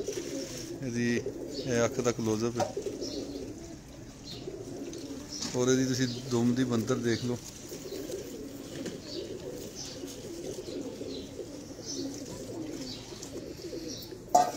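Pigeons coo on a rooftop in bursts of throaty rolling calls, close by, mixed with someone talking.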